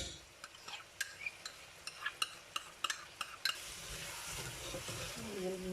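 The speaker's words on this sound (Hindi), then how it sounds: "इसको अच्छे से इसमें भूनेंगे।" A pan of brown onion and yogurt paste frying for murgh badami, with a steady sizzle that thickens into a dense, continuous hiss after a run of sharp spoon clinks against the pan while stirring.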